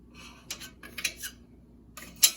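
Knife slicing through soft goat's milk mozzarella curd, a few quiet, separate scraping cuts with brief metallic clinks against the pot, faint and close.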